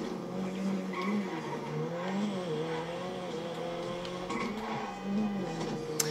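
A car is driven back into its parking spot in a video game, its engine droning steadily with wavering pitch as it moves, tires squealing lightly along the way, with no talk over it.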